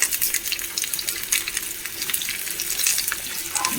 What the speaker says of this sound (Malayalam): ഇളക്കി കൊടുക്കാം ഒന്ന് മൂത്ത് വരട്ടെ നന്നായിട്ട്